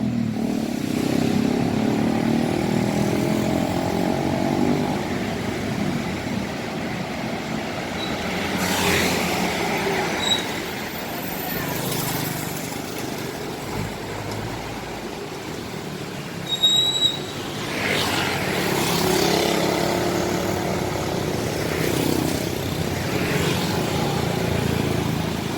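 A Mira bus bound for Surabaya from Yogyakarta pulls out of Tirtonadi bus terminal in Solo, its engine rumbling moderately amid terminal noise, with a few squeals and clatters partway through and rain-like hiss throughout.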